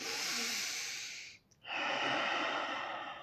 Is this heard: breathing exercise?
yes